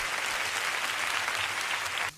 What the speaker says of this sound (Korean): 우리 주님 앞에 감사의 박수 올려드립시다.